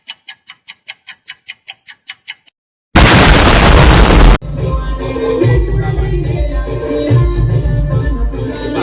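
Diwali firecrackers go off after a run of about a dozen evenly spaced ticking pops: a loud sharp blast, then a sustained crackling roar of bursts and rumble, up close and outdoors.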